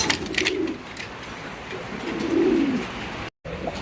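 Lotan pigeons, a new-model breed shown as a pair, give soft low cooing at close range with a few brief bird calls around it and no talk.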